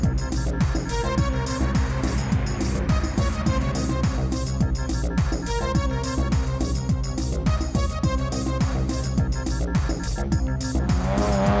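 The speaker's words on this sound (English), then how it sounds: "We're gonna do some street drags." Cars street drag racing at night at a spot in Yokohama, with loud, close engines revving and roaring hard and continuously, plus rising gear-change whines and occasional tire squeal.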